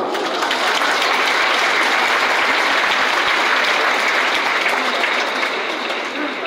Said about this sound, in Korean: 출신부장에서 많이 오셔서 좋은 함성을 질러주시네요